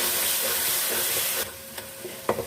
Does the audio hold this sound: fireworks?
no